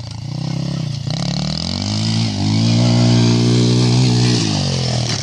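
A Kymco Mongoose 90 ATV engine revs hard through a jump, a loud, close, buzzing small-engine drone that dips briefly and then climbs and holds high before cutting back, with voices talking over it.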